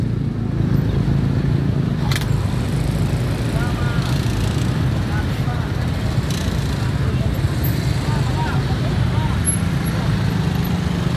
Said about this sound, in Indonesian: Masih macet total ya.